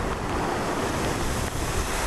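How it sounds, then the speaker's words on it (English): Storm-driven waves on Lake Michigan surge and break in a loud, unbroken roar, mixed with strong wind noise across the microphone. "The approaching storm did whip up the waves on Lake Michigan"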